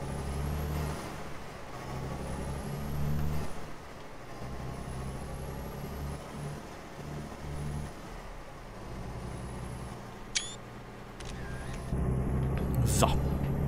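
A Mercedes LPS 1632 truck, lightly loaded at about six tonnes, pulls slowly away in Euro Truck Simulator 2. Its diesel engine gives a low, steady drone that rises as it revs up, with a hiss of air near the end.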